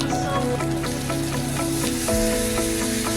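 Sizzling pork barbecue on a hot plate at a restaurant gives a steady, crackling hiss throughout, heard under background music and a speaking voice.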